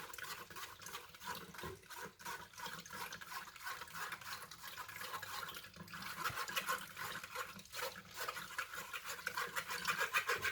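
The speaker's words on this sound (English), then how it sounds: "Just want to get all of the juice from the beetroot." Beetroot juice pours out in a continuous close trickle and splash, wet and fairly quiet, with some faint handling noise and no talk.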